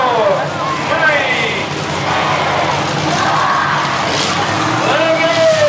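Demolition derby cars at a county fair rev their engines and squeal their tires over a loud, continuous crowd roar, with shouting voices mixed in throughout.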